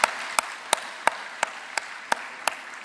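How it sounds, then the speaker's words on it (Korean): Slow, evenly spaced hand claps ring out in a church during an early-morning prayer service, about eight sharp claps at a steady rhythm over quiet background noise. "그리고 여러분 박수 한번 해주시면 좋겠습니다."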